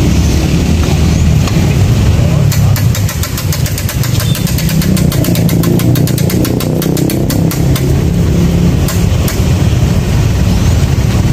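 A Firman FTL 720D cultivator engine starts and settles into a loud, steady, close-up running chatter with a rapid mechanical pulse throughout.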